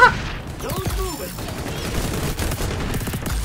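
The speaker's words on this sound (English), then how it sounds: "I really want to get another kill with that bomb I put on the ground" An in-game explosion from a bomb placed on the ground in the shooter XDefiant, a sudden loud boom mixed into dense gunfire and game noise, with a person laughing over it.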